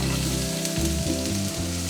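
Chopped garlic hits hot oil in a pan, giving a loud, close, continuous sizzle with a constant underlying hum and no talking.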